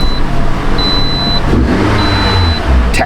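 A car engine cranks briefly and catches, then settles into a steady running idle with a faint dashboard chime beeping in the background, close and fairly loud.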